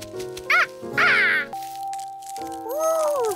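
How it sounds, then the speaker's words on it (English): Cartoon duckling hatching from an egg, with several short quacking calls, then a sustained tone and a rising, falling chirp in a cartoon soundtrack. "A duck is hatching right before my very eyes."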